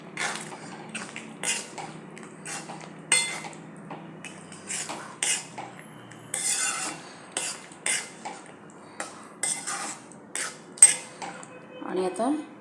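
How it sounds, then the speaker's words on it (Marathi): A spoon mixing paneer and potato in a pan, with a run of irregular metallic scrapes and clinks, close and fairly quiet against near silence. "मिक्स करायचं व्यवस्थित"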